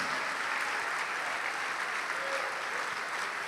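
A church congregation applauds in a steady, dense wash of clapping from many hands, continuous and fairly loud throughout the short stretch.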